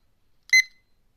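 A short electronic timer alarm gives a single bright, high-pitched beeping burst of about a quarter second, loud and alone against near silence.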